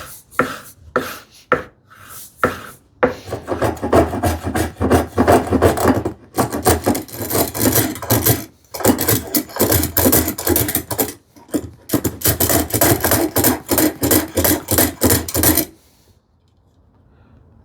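Hand spokeshave shaving wood on a speaker table enclosure, a run of repeated rasping strokes close up, short bursts at first, then dense continuous passes with brief pauses before stopping.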